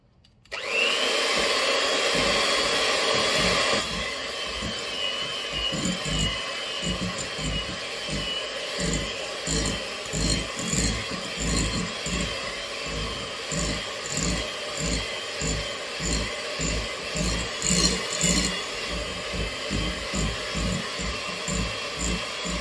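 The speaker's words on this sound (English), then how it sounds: "I first use the spoon to mix it up a bit." A spoon stirs icing sugar into well-beaten butter in a bowl, giving a steady run of close, rhythmic scraping and rubbing strokes at even volume with no talk.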